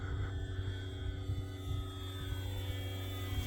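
A 3D-printed Eclipson Panthera RC airplane passes by, its steady motor and propeller drone humming continuously with slight swells as it flies a low pass, heard from a moderate distance with no talking.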